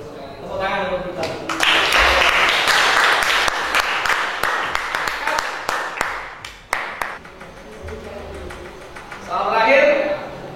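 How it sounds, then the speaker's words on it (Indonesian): Applause from an audience at an Indonesian teacher education session, a burst of clapping that builds and then fades in scattered claps, with talk before and after. "Tepuk tangan untuk kita."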